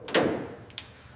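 A car door is being fitted on a 1957 Chevrolet Bel Air, making a single dull metallic thud followed by a short ringing decay and then a small click, close and alone.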